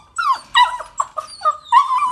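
A puppy at an adoption event whimpers and yips in a series of high, whining bursts mixed with brief low growls, close and clear with no talking.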